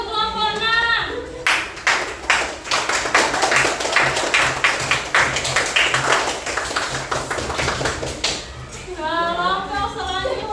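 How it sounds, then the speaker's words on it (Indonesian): A group applauds for another team at a classroom event, giving a sustained round of hand clapping that builds and fades, framed by voices talking before and after. "Sekarang duduk tepuk tangan untuk kelompok 6."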